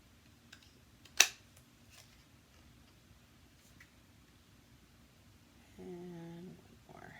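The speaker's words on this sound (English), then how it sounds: "Now we'll use our punch." A paper craft punch snaps once through cardstock, a single sharp crisp clack near the mic in an otherwise quiet room, followed by softer handling taps and a brief faint hum.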